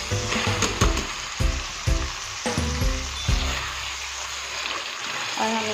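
Potatoes get stirred into softened, cooked tomatoes in a sizzling pot for aloo matar pulao, with repeated scraping strokes in an uneven rhythm over continuous frying, close by and with no talk.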